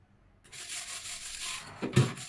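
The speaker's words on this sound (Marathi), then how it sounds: "या मिठाने आपण बाहेरून थोडासा जोर देऊन घासून काढायचं आहे हा माठ" Salt rubbed hard against the outside of a clay water pot, a steady gritty scraping that swells into a louder burst of scrubbing at the end, with no talking.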